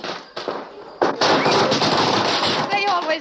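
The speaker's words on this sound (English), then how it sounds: "They always light firecrackers when I come home." Firecrackers set off for a homecoming, a dense, loud crackling burst of rapid pops sustained for several seconds, with voices heard alongside.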